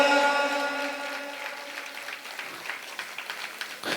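A sustained tonal sound fades out as scattered audience clapping at a Jain Kshamavani forgiveness-festival gathering takes over, light and uneven hand claps with a few sharper accents toward the end.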